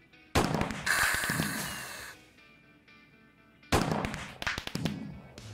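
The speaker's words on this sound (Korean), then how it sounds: "자 폭죽 한번 터트려 주시죠" Bursts of crackling explosions and sharp pops in two loud clusters, separated by a quieter stretch with fizzing and a faint tone: fireworks in Minecraft.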